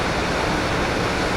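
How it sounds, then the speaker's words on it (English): A waterfall on a creek runs nearby with a dense, steady broadband roar of rushing water, loud and unbroken, with no other sounds. "Then you've got the waterfall in the background"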